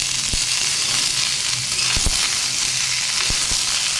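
Mixed vegetables frying in a pan for a vegetarian dish, a dense close sizzle under slow stirring, with a few sharp spatula taps against the pan, no voices.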